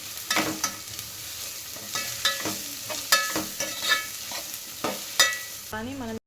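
Beetroot rice with grated carrot stirred in an oily pan, a steady run of spoon scrapes and clacks over a light sizzle, close and clear, with no talk.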